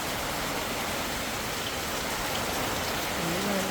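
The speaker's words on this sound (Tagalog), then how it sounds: "Sobrang lakas na naman guys ng ulan." Heavy typhoon rain pours in a dense, steady roar with constant spatter on surfaces and no letup, close and loud.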